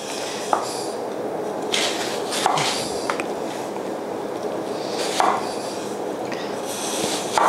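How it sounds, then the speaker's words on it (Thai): A knife chops an apple on a cutting board in scattered, uneven strokes, with crisp cuts and soft scraping between them, close by. "ผมจะหั่นแอปเปิล เตรียมไว้ก่อนเลย"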